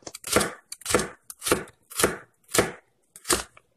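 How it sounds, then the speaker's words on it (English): A knife chops pui shaak stems on a board in six sharp, evenly spaced strikes, close and crisp with no voices. "Before I chop it up a little bit."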